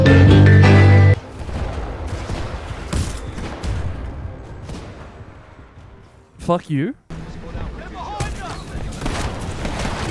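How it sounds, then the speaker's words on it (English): Gunfire and explosions in the video game Titanfall 2, dense bursts of shots and booms from the game's audio with a person talking over the action. "Oh, so you heard the gunshots that time."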